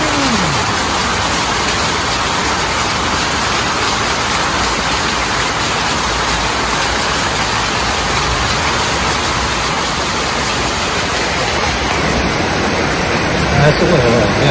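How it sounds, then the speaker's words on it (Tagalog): Heavy rain pours down in a barangay in Dampol, Plaridel, a steady, loud, broadband hiss and roar that continues without a break. "lakas ng ulan."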